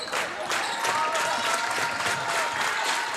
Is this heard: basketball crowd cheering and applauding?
yes